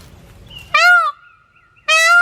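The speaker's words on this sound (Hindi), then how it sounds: "मोर की आवाज सुनिए।" A peacock gives two loud, nasal, wailing calls separated by a short pause, close and clear with faint background noise before the first cry.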